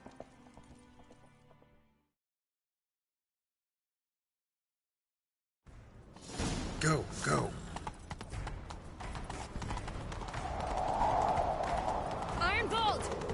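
Horse hooves clip-clop in The Witcher III as a mount gallops off after a chase begins, a steady run after a short silent gap, with game voices speaking over it and a brief whinny near the end.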